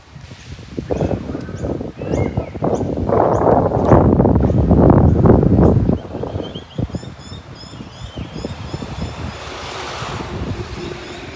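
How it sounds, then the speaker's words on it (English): Strong wind buffets a microphone on a seaside walk along an esplanade at Wynnum Manly, Brisbane. Heavy rushing gusts build and peak midway, then ease to a steadier, lower blow. "even though you will hear the wind"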